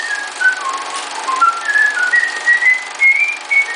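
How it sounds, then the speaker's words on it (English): A person whistles a cheerful, bouncy melody of short rising and falling notes, clear and fairly close, with no talking. "he was whistling a happy tune"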